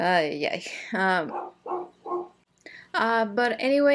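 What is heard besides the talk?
dogs barking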